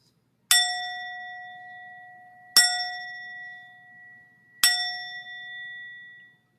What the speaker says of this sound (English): you know when we're shifting because you hear the bells